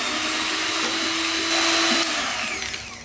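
An electric hand mixer whips almond sponge batter at low speed with a steady, close whir and a brief rise in pitch midway before easing off at the end.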